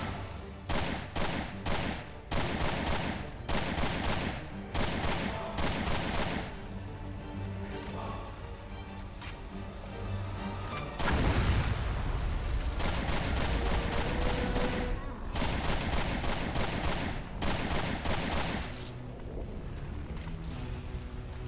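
Bursts of rapid gunfire in Resident Evil Revelations 2, loud clustered volleys repeating in quick runs, a pause filled with a heavy rumbling blast around the middle, then more rattling bursts to the end.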